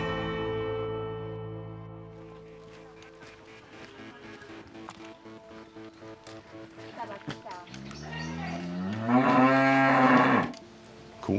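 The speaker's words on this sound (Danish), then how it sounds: "Koen kan være et meget farligt dyr, som Jørgen Leth engang sagde under en Tour" Cattle low loudly and close by, several drawn-out moos with a rising, wavering call near the end, over steady background noise and some voices.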